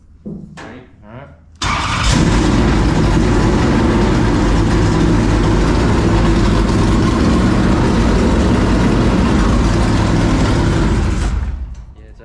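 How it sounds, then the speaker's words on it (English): A race car engine cranks over briefly, then fires and runs loud and steady at a fast idle for about nine seconds before cutting off, with some nearby voices early on. "Jordy's ready to crank the motor, so we're gonna do that"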